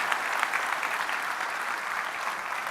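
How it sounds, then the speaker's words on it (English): A large audience at FlightSimExpo 2025 applauds, a bright continuous wash of many hands clapping at a steady level without a break. "let's give ourselves and everybody a big round of applause for making the show happen"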